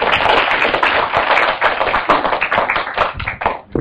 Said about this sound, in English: we would like to maybe start the day with a clap